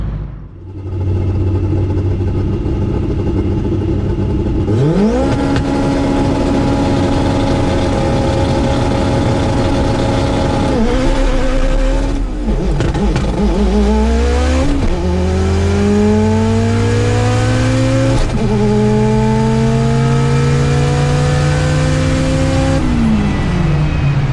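An all-wheel-drive Honda Integra with a K24 engine idles, then revs hard on a drag strip. It climbs through a string of rising, screaming shift pulls, loud and close, with no talking.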